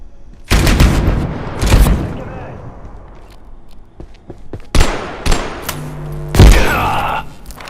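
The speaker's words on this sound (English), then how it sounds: "Man, they are some crack shots with that machine gun." Machine gun fire from enemies in the video game Abiotic Factor comes in loud, sharp bursts separated by quieter stretches, with a few isolated thumps between volleys and someone talking in places.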